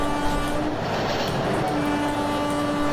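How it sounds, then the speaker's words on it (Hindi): A WP4 steam locomotive in the Open Rails train simulator game sounds its horn, a sustained steady tone over the continuous rumble of the train, loud and close. "एकदम रियल रियल वाला हॉर्न है, ऐसा ही हॉर्न हमें सुनने को मिलता है WP4 में"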